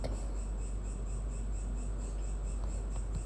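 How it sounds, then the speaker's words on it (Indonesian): Crickets chirp in a steady, unbroken trill, a shrill insect drone holding an even level throughout with no voices over it. "Jangkrik."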